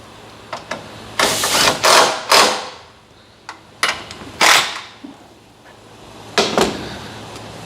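A ratchet or wrench tightens the 10mm bolt on a Lexus ES350 battery, with bursts of loud metallic clicking and ratcheting separated by pauses, very close and with no speech.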